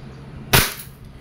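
A single sharp pop from a WE Airsoft Glock 17 Gen 5 gas pistol firing, close and loud, with a short decaying tail.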